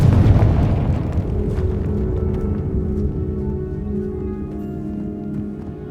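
A Confringo fire blast spell bursts in the Hogwarts Legacy video game, opening with a loud deep boom and settling into a sustained rumbling roar with steady tonal drones underneath, no talking over it.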